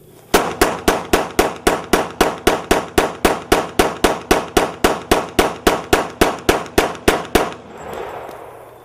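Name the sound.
Glock 21 pistol mag dump, shot offhanded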